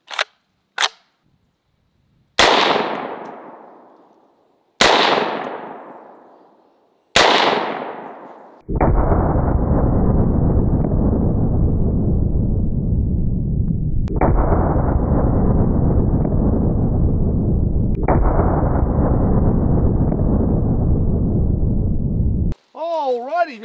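Several sharp, loud rifle shots from a Kel-Tec SU-16 chambered in 5.56, fired at a rubber atlas stone outdoors, each crack followed by a decaying echo, with long steady noise stretches between later shots.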